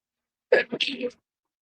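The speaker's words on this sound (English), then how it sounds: "I'm having my morning sneezes." A single short sneeze close to the microphone, sharp and breathy, in otherwise quiet surroundings.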